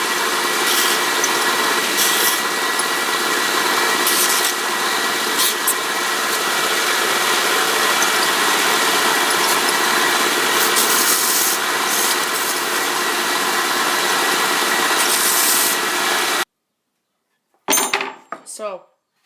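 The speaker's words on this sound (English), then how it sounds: "Now I'm just going to take them on the belt sander and sand off the burrs that are on these." A belt sander grinds burrs off thin wood strips for a checkerboard, a loud, steady abrasive roar running continuously for most of the span, then cutting off abruptly, followed by a short clatter near the end.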